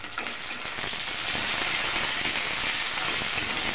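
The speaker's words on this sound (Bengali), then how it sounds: "এবার স্লো ফ্লেমে ভালো করে নেড়ে নিলাম।" Vegetables and tomatoes sizzling in a pan over a low flame while being stirred, a dense, steady crackling fry with soft scraping, close and continuous without speech.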